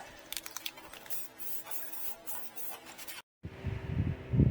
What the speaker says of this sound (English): put a little spray paint on there, just like that